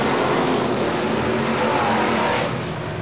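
Super stock race cars on a circuit track under green flag, a loud, steady, close roar of engines that holds at full volume and drops slightly at the very end, with no talking.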